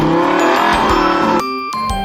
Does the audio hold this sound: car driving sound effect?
yes